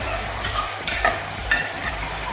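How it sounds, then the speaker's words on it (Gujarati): Whole eggplants fry in hot oil with a close, steady sizzle, broken by a couple of sharp stirring scrapes from a spoon in the pan. "આખા રીંગણા નાખી દેવાના. પછી બરાબર હલાવી"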